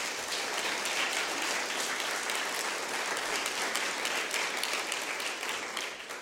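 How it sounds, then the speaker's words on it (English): Applause from a conference audience for keynote speakers at a health psychology event fills the room, a steady, dense clapping that holds for several seconds before tapering slightly at the end. "So a big round of applause for our keynotes."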